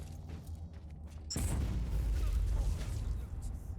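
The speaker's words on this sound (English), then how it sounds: "That was a very nice explosion." A loud explosion in a starship combat video game bursts in suddenly and rolls on as a sustained low rumble, following quieter ambient game sound.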